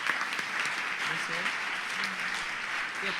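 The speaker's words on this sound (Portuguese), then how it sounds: "Aplausos a Jesus" Church congregation applauding after a birthday blessing, a steady wash of clapping throughout with some voices faintly mixed in.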